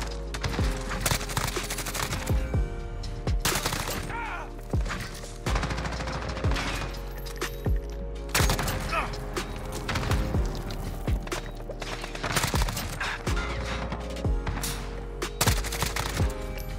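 Dense gunfire erupts from all sides in Modern Warfare, with rapid bursts and single cracks from a Grau 5.56 and enemy weapons overlapping continuously, loud and close, without any speech.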